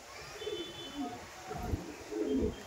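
Male Madrasi pigeon giving low, soft coos close by, faint and intermittent against a quiet background.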